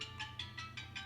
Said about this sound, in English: excuse that phone ringing.